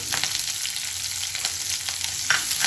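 Steady oily sizzling of chopped onions and curry leaves frying in a pan, a continuous hiss with occasional soft stirring scrapes, close and fairly loud.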